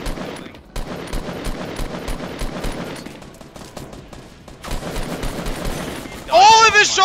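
Rapid gunfire from a pistol and weapons in a Fortnite Battle Royale match, a dense run of sharp shots through most of the stretch, loud and near, with a brief higher voice-like burst near the end.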